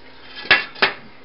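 Two sharp metallic clanks about a third of a second apart as a lid is set onto a cooking pot of chicken tikka masala, with no talking.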